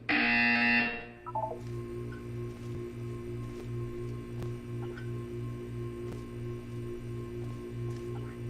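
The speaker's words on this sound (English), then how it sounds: "You will hear a buzzer." A loud electronic buzzer from the video game Portal 2 blares for about a second, then gives way to a quiet pulsing hum and faint periodic ticks in the test chamber.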